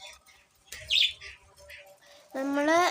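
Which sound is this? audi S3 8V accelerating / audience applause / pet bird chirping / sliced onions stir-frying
pet bird chirping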